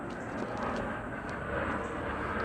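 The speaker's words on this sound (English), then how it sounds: "Another airplane flying through." An airplane passes overhead with a steady broad roar that swells slightly toward the end. It sounds moderately distant and plays on its own in an outdoor setting.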